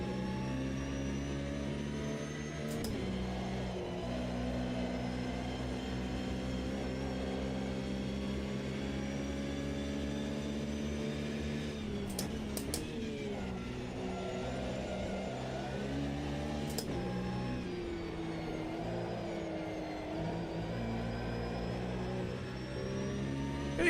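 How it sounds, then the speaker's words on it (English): Racing car engine in the Automobilista 2 sim, played in VR, holding a steady drone with harmonic whine that shifts as revs rise and fall through gear changes, loud and continuous with no talking. "This car sounds alright actually."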